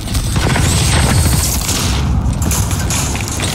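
A grenade explodes in a PC video game played with a controller, heard within loud, dense battle noise of booming blasts and rapid gunfire that runs the whole stretch without a break.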